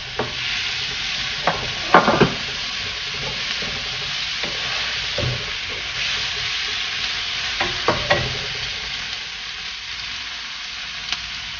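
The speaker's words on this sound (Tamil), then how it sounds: "வெங்காயமும் தக்காளியும் நல்லா வதங்கட்டும்." Onions and tomatoes fry in a pan for an okra dish, a continuous sizzle broken by several sharp scrapes and clatters of a spoon stirring at irregular moments, close and fairly loud, with no talking.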